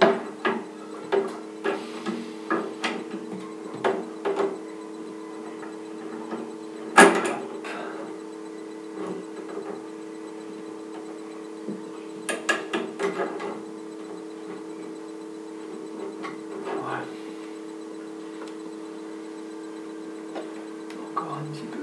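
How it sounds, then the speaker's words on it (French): An adjustable wrench loosens the hose nut on a washbasin mixer tap valve, making a series of light metallic clicks and knocks, regular at first and then sparser, close over a steady background hum. "avec ma clé à molette, je prends le haut de la vanne, l'écrou du flexible que je dévisse"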